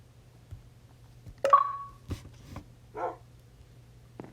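Dogs in a Minecraft-style survival multiplayer game give a few sparse, short barks and whimpers, fairly faint against a quiet background with a steady low hum.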